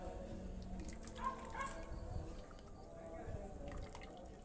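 Coconut milk, 500 ml, is poured into a palm sugar mixture in a cassava and banana dish and gently stirred, giving soft liquid drips and sloshing under a low background murmur.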